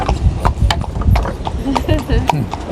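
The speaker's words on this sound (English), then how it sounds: "the horse knows exactly that it's time to walk" Horse hooves clip-clop on a street in Guyana, a close, steady walking rhythm with a whinny-like tone, while people talk over it.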